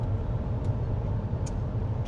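Car cruising along a hot outback road between Cairns and Strathalbyn, heard from inside as a steady low engine and road rumble with a constant drone and no talking.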